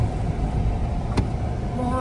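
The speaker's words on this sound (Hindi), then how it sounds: "बहुत ज़्यादा ट्रैफिक है" Heavy road traffic backed up near a bridge on a one-lane road, with cars idling in a continuous, fairly loud engine rumble and a brief sharp noise midway, while people talk over it.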